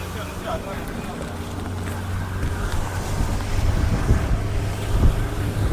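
Low steady engine drone of a motorboat running continuously, mixed with wind buffeting and water noise, growing slightly louder toward the end.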